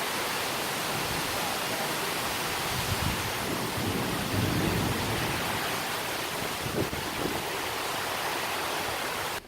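Heavy tropical rain pours down steadily on the north of Phu Quoc island, Vietnam, a dense, loud, unbroken hiss filling the whole stretch with no letup.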